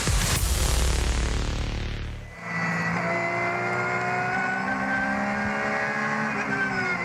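A Dunlop Motorsport Porsche race car on an in-lap at the Nürburgring, climbing the hill out of Breitscheid, roars loudly past, then its engine drone settles into a steady, fainter tone while the car pulls away.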